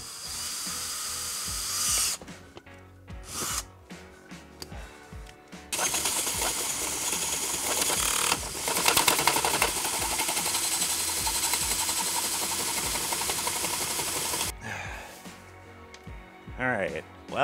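A power drill bores a hole through a car-mounted Starlink dish mount, buzzing loud and close in long stretches with pauses, clatter and brief talk in between.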